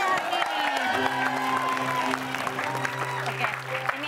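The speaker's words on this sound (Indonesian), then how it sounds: "Tepuk tangan dong buat yang belum sayang ini." A studio audience on the Indonesian talk show RUMPI claps and cheers, with sustained crowd applause under held musical tones and a brief whoop.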